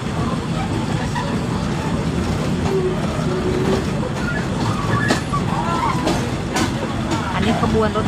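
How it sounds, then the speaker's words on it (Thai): Train with oil tank wagons rolling along multi-track railway lines in Bangkok, a steady broadband rumble of wheels and cars throughout, with a voice talking over it. "อันนี้รถไฟ บรรจุน้ำมันนะคะ"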